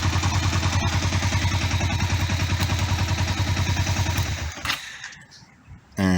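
A motorcycle engine idles close by with a fast, even, chugging rhythm that runs steadily, then it is switched off and the sound dies away into quiet clicks.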